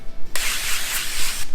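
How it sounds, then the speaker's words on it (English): Cooking spray hissing from a can into a baking pan for a cake, one loud, close burst a little over a second long, bracketed by brief handling noise. "A nice little spray."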